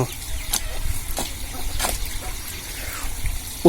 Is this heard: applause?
no